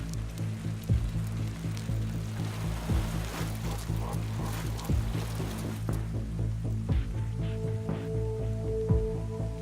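Heavy non-stop rain falling during a cold race day, a steady hiss of drops with scattered splashes and taps, moderately quiet and unbroken, with a low hum underneath.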